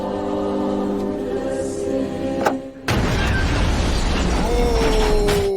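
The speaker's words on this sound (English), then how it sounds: "Burns was taken out by a car bomb, the explosion of which was described by police as being one of the strongest they'd ever witnessed." A car bomb detonating in a mob hit lands as a sudden broadband blast after a steady droning background, then a dense rumbling roar persists to the end with a rising whine over it.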